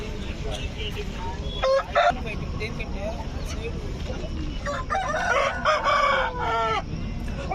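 Aseel roosters at the Gudur chicken market crow and cluck in short bursts, loud and close, amid market noise, a barking dog and people talking.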